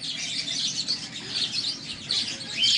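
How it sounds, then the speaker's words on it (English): Many birds chirping and twittering continuously at moderate volume, a dense layer of high, busy calls with no talking. "You see, there are plenty of birds."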